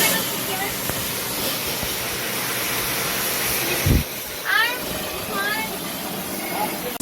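A blower sends a steady, loud hiss of air through a Kolin Ksm-15MB1INV-1 split-type inverter air conditioner during cleaning, running continuously with faint voice-like chirps and thumps mixed in.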